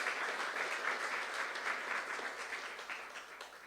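A church congregation claps together in sustained, steady applause, loud and close throughout, with no voices over it.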